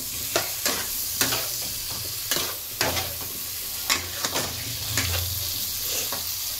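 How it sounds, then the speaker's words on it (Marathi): Potatoes fry on a high flame in a pan, a steady close sizzle with a spoon scraping and knocking against the pan at an uneven rhythm. "गॅसचा फ्लेम फुल करायचा आहे आपल्याला आणि हे चांगलं फ्राय करून घ्यायचं आहे 1-2 मिनटं"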